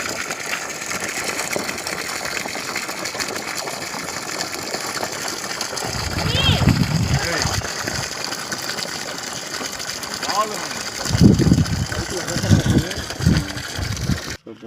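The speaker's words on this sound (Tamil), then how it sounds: "தண்ணி வருதுங்க இப்போ" Water gushes from a 900-foot borewell driven by a DC submersible motor, a steady mechanical hum with splashing flow that swells louder partway through, with brief voices nearby.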